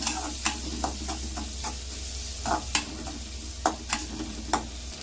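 Chopped raw mango sizzles in a hot pan while a spoon stirs, with soft scraping taps at irregular intervals over a steady frying hiss.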